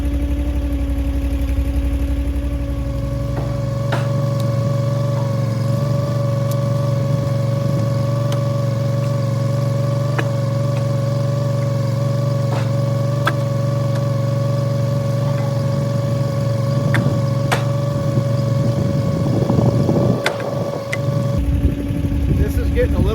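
A Wolfe Ridge 35 SHO box wedge motor runs steadily for about twenty seconds, a loud constant drone with a stable tone, then it cuts off near the end, leaving quieter room sound behind.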